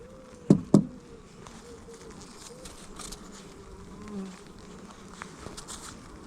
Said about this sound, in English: So that's going to be full of wasps, that one.